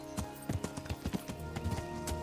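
Horse hooves clip-clop in Kingdom Come: Deliverance, a quick run of close, fairly loud footfalls in a steady trotting rhythm over a constant low ambient bed, with no voices.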